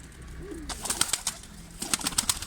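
A male tumbler pigeon gives a couple of low, soft coos close by, followed by sharp crackling bursts that could be wing claps.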